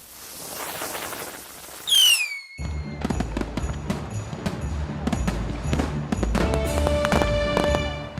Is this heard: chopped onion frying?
no